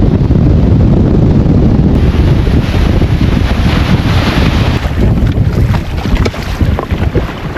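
Strong wind buffets a boat cruising on Tasman Lake, a glacier lake, as a steady, loud roar that lasts throughout with no talking.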